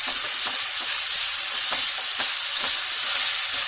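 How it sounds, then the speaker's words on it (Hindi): Chicken sizzles steadily as it is sautéed in a hot pan, a loud, close, unbroken hiss with occasional soft stirring scrapes and no voices. "इसे अच्छे से भूनने के बाद में जो हमने ये चिकन ली थी ये डाल देंगे और चिकन को भी साथ में भूनेंगे"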